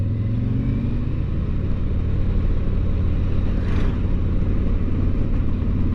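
A car cruising west on Route 40, a steady low engine drone with road and wind rumble heard from inside, continuous and even with no talk.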